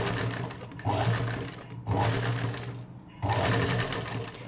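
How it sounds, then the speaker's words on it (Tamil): Sewing machine stitching around a curved blouse neckline, running in three bursts of steady whirring with brief pauses between as the fabric is turned. "இந்த நெக் ஃபுல்லாக நான் ஸ்டிச் பண்ணிட்டு காட்டுறேன்"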